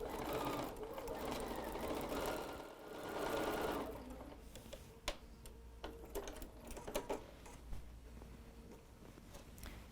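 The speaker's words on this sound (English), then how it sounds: "let me go ahead and stitch that down so I know that that side is done" A sewing machine stitches down a seam on a pieced heart quilt block, first running in a steady continuous whir, then giving way to scattered clicks and short taps.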